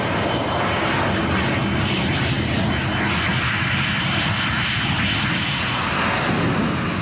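Gloster Meteor jet fighter engine roaring steadily throughout, a loud broadband rush with no pauses and no voices.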